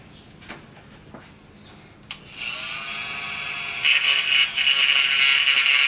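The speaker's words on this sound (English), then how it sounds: "I've got my Dremel right here, so what I'll do is just go ahead and clean that up real quick" A high-pitched Dremel rotary tool whines steadily while deburring metal on a paramotor carburetor, rising in pitch and loudness toward the end after a few faint taps and clicks.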